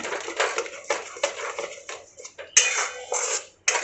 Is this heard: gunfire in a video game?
no